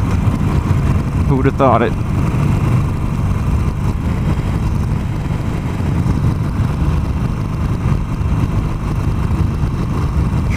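A motorcycle rumbles along a road in North Georgia with steady engine drone and wind rush throughout, while a rider talks briefly over the noise.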